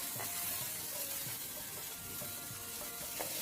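Curry leaves, ajwain seeds and chopped chilies sautéing in hot oil for a simple sattvic veg thali, giving a faint, continuous hissing sizzle with occasional soft stirring ticks, no voices.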